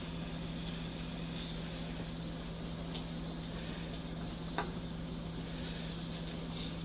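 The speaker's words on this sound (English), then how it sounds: "Let that sizzle a little bit." Meatballs sizzle softly in a pan, a steady faint crackling hiss over a low electrical hum, with one small tap and no talking.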